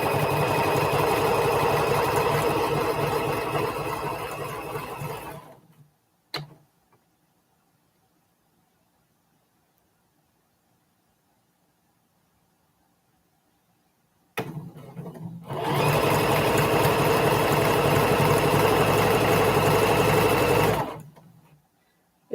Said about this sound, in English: and then I just start stitching